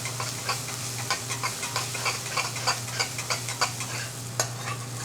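A heaped tablespoon of ginger and garlic paste fries in a pan, giving a steady soft sizzle broken by quick, rhythmic scraping taps as it is stirred. No one talks.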